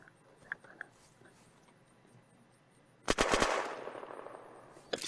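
Gunfire in the game Unturned during an arena PvP match: a few faint shots early, then a loud close burst of rapid automatic fire, with one more shot at the end.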